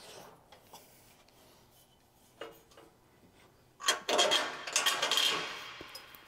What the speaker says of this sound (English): Just thread a nut on.